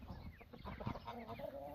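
Chickens and Muscovy ducks on a hobby farm cluck and chatter continuously in a close, busy flock, with overlapping low calls and a few sharper clucks throughout.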